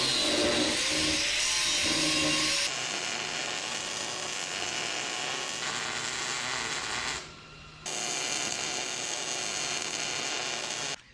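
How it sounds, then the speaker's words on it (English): A cutoff wheel grinds through the steel frame of an LS-swapped S-10 pickup, trimming a corner joint for a C-notch: a loud, sustained high-pitched shriek that drops out briefly near the end before resuming. "we're gonna take our cutoff wheel. We're actually gonna trim that out just a hair where we've got a corner joint."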